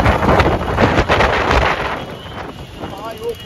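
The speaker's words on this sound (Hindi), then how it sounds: "ये ना हवा चल रहा बहुत तेज" Strong wind during a rainstorm in Kolkata, buffeting the microphone in loud gusts that ease off toward the end.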